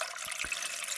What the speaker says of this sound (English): I'm going to just cover those with water.